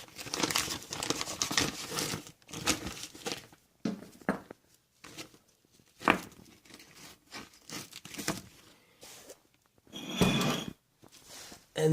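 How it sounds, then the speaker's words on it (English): A plastic tarp crinkles and rustles as it is rolled down in a garage seed-starting grow room, coming in close bursts of crumpling broken by short silences. "And then roll the tarp down over."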